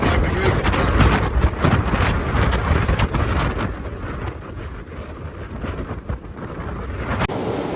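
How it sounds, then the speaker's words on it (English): Storm Darragh winds roar along the Blackpool promenade at high tide, battering the microphone with a continuous loud rumble and sharper gusts throughout. "I can hear the wind whistling through, you no doubt can as well"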